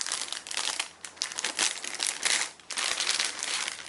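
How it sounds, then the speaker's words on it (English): Stationery packaging crinkles and rustles as a package is opened, dense and close, with the crumpling rising and easing in waves and one short pause. "Let's open up this beautiful package."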